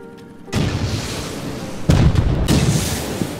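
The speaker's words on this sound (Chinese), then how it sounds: "希望 RPG 把这墙轰开" An RPG rocket blast in an online shooter game, fired at a building wall: heavy booming bursts with a rumbling tail, a second loud impact arriving about a second later, no voices.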